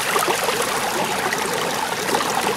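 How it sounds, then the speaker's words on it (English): Water flows steadily through a self-feeding sluice box, carrying material with it in a constant hiss and trickle, close and even throughout with no talking. "So there you can see the water flow coming through, eating up that material as it feeds our sluice box."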